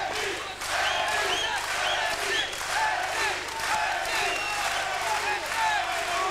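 A boxing arena crowd at a Sven Ottke fight chants in chorus, a rhythmic swell of many voices rising and falling, with a commentator talking over the roar.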